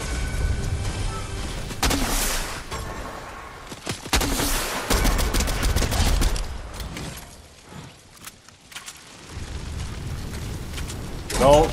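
Bursts of gunfire crack and rattle in a jungle shooter game, loud and dense in several volleys with brief lulls between, while voices talk over the shooting.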